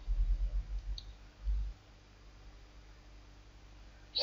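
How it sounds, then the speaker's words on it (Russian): A cluster of soft, close computer mouse clicks at the start, then another small click a moment later, followed by faint quiet room noise with no talking. "Кликаю Submit."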